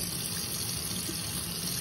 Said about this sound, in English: turn the water off with your napkin